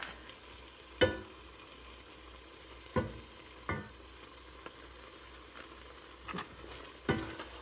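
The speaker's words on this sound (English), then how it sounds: "you're just going to stir up the Sure Gel until it dissolves." Sure Gel being stirred into jam cooking on the stove, with a few sharp spoon-on-pot knocks and scrapes spaced a second or two apart over a low, steady simmering hiss.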